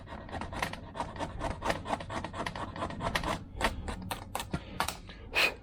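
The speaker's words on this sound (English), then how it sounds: "Get the rest of this gasket off here." Scraping and rasping on a 1979 MG Midget 1500 engine part as an old gasket is worked off: a steady run of short, close strokes and scuffs, fairly quiet and uneven in rhythm, with no talking.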